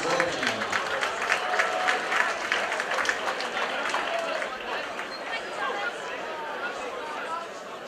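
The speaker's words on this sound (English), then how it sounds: "and a round of applause for the runner-up," Applause and cheering from a crowd at an amateur boxing event in a stadium hall, a busy wash of clapping mixed with chatter and voices that gradually tapers.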